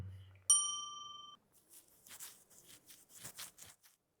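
A single bright bell strike rings out and decays over about a second, followed by scattered lively chatter and voices.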